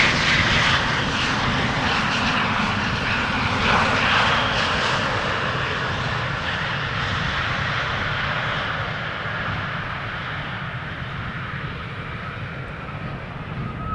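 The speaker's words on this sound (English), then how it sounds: "Embraer 190 arriving from Hamburg." An Embraer 190 airliner arriving at Schiphol Airport roars in a loud, steady jet rumble that slowly fades as it passes, with no talk.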